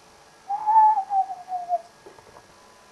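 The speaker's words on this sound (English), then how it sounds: "An owl came out of Douglas's crib when he started work." An owl hoots once as a sound effect in a Thomas the Tank Engine fan episode, a single drawn-out falling hoot, clear and alone against quiet background.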